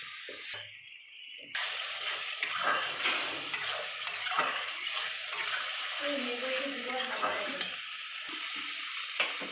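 Tomato puree hits hot Amul ghee in a pan while cooking Bengali katla kalia, bursting into a loud, close, continuous sizzle with stirring scrapes on top.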